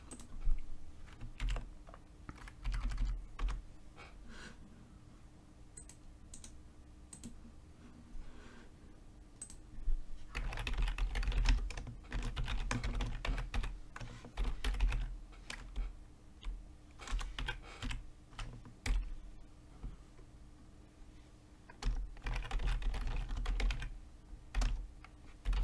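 Code is typed on a computer keyboard at a desk, a steady stream of close, quick key clicks with brief pauses and denser flurries, no voices over it.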